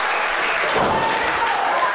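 A crowd at a professional wrestling match applauds in a dense, steady wash of clapping with some cheering mixed in, sustained and fairly loud throughout.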